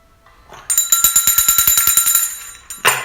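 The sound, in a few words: bell being rung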